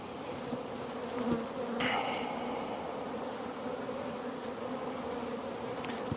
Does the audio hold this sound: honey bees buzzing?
yes